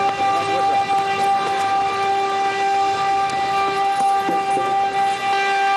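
Siren at a border crossing point during a closure drill, a steady layered tone held without a break from start to finish over faint background noise.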